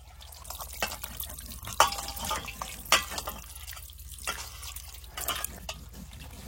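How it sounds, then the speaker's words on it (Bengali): Water splashes and drips in scattered, uneven bursts as a scaled Chandpur hilsa fish is rinsed by hand, with faint room noise between the splashes. "এবার মাছটা একটু ধুয়ে নেবো"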